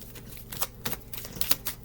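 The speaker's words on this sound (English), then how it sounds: "I'm just gonna shuffle it." Small deck of cards being shuffled, a few quick riffling bursts close up and fairly quiet, with no talking.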